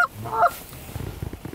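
Geese honk during a goose hunt in a brief cluster of loud, nasal calls at moderate distance, followed by soft rustling and low thumps.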